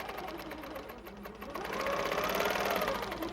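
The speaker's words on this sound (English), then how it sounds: "So I'm going to go ahead and quilt." A longarm quilting machine stitches along a long ruler for clamshell templates, a fast steady mechanical rattle that runs throughout and grows a little louder partway through, close and without speech.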